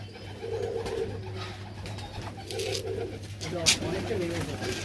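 Pigeons coo at a pigeon farm in Nabadwip, with low, repeated throaty calls rolling on in a loose rhythm over a constant background hum and a sharp click near the end.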